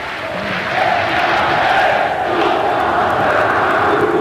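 Dense, roaring stadium crowd of Flamengo supporters cheers and chants continuously during the 2006 Copa do Brasil final against Vasco, swelling slightly midway, with faint commentary underneath.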